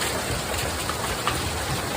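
Hail from a thunderstorm pounds Strawberry Reservoir in Utah, producing a loud, unbroken rushing patter like heavy rain, with faint individual hits poking through.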